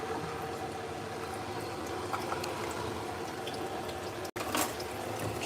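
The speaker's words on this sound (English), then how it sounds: "Fry the garlic." Garlic frying in a pan gives a continuous, even crackling sizzle, close and moderately quiet, with no talking.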